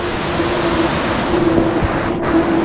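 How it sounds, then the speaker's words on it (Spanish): A deep, flooded river, the Río Precioso near Mata Plata in Jarabacoa, rushes past as a steady, loud, broadband roar of water, continuous and close with no pauses. "miren cómo va ese río de hondo."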